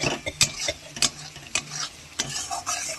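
Egg frying in spiced masala in a pan, soft sizzling under sharp, irregular scrapes and taps of a spoon stirring against the metal.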